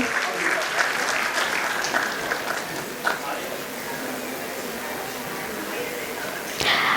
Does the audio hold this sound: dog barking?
no